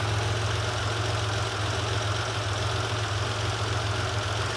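A Porsche 911 with a 3.2L engine at operating temperature idles steadily, a low, even rumble with a constant throb, close and unbroken, with no talk over it.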